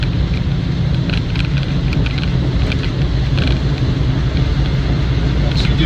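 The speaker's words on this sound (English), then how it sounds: "Once you do get a bit of tyre noise from the military tyres." Land Rover Defender 90 300Tdi Wolf soft top on military tyres cruising on the road, a steady loud broadband roar of engine and tyre noise running throughout with no breaks.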